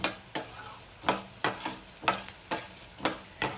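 Cumin seeds and moringa leaves dry-roasting in a pan. A spatula scrapes and stirs in regular strokes, about eight times, over a faint sizzle, close up and with no voices.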